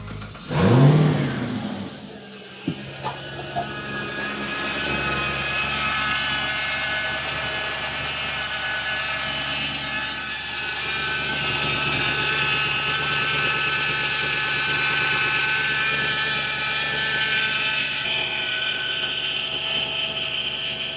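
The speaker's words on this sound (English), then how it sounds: "then start the car on the hoist" A Porsche 986 Boxster with a V8 swap cranks and fires on a hoist with a loose fitting, catching with a brief rev before settling into a steady, loud, slightly whining idle that runs on alone.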